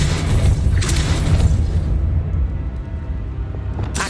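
Depulso force spell cast in the Hogwarts Legacy video game, a loud booming blast with a low rumbling body that fades over a few seconds, followed by a second sharp burst near the end.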